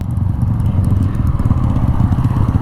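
A drag racing vehicle's engine sits at the start line, giving a loud, close, continuous low rumble with slight fluctuations and no clear rev peaks.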